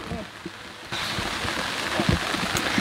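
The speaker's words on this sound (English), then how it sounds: "it's raining" Rain falling steadily beside the Essequibo River on Wakenaam Island, Guyana, a dense close hiss that thickens after the first second, with scattered heavier drops pattering on nearby surfaces.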